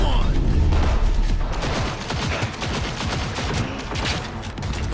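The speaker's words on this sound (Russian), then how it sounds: "Надо к отдаче привыкнуть, к тому, что по два выстрела делает пистолет." Pistol fire in the video game Cyberpunk 2077, a weapon that shoots two rounds per trigger pull; dense, loud, continuous crackling bursts fill the whole stretch, with a faint voice buried underneath.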